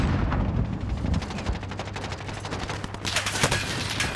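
Rapid automatic gunfire in the video game Warzone, bursts of shots crackling continuously for several seconds, close and loud, with a sharper, brighter volley near the end.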